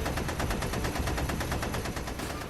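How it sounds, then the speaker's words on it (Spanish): An autocannon hammers out a dense, continuous stream of heavy rapid shots, loud and relentless throughout, staged as a battle effect in a Warhammer 40,000 audio drama. "El estruendo del autocañón de Dorkin disipó esa posibilidad."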